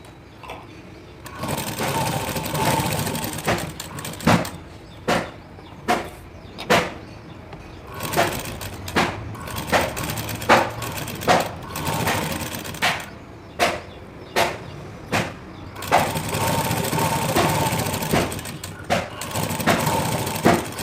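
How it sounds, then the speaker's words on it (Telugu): Sewing machine top-stitching around a blouse belt, with long runs of close, loud motor whir broken by many short stops and restarts in a steady start-stop rhythm. "వేస్ట్ క్లాత్ మీద పడేటట్టు టాప్ స్టిచ్ చేయండి వేసేసి చుట్టూ కుట్టేసేద్దాం"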